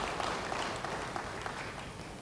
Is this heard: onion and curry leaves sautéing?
no